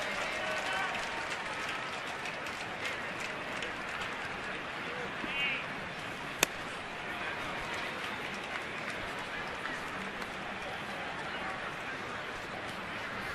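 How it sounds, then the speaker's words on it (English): A baseball stadium crowd cheers and applauds a scoring ruling, a broad, steady wash of cheering heard from a distance with voices talking over it. "And the crowd even cheers the ruling."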